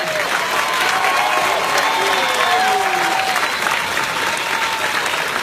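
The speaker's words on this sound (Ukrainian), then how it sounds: "Найгучніші аплодисменти" A large audience applauds after a performance of Bizet's opera Carmen at the Operafest Tulchyn, with dense, loud, sustained clapping and faint crowd murmur, while a few sung or whistled tones drift over it.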